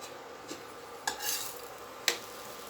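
Egg parotta cooking in a pan on an electric stove, a soft sizzle with three sharp clinks of a utensil against the pan, close and with no speech.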